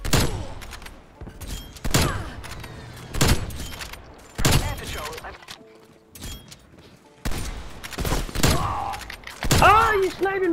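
Sniper rifle fire in Black Ops Cold War rings out as about seven loud, sharp cracks spaced a second or two apart, each trailing a ringing echo, with brief voice sounds between shots.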